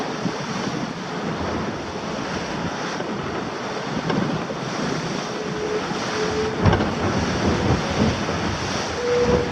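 Giant ocean waves rush and hiss around a Mini 650 sailboat sailing downwind in the evening, with constant wind buffeting the microphone and a few sharper knocks from the hull.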